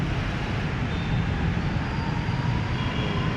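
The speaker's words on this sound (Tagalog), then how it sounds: "Dumaan na yung train." An MRT train rumbles past nearby with a steady, broad low roar that holds constant throughout, no voices audible.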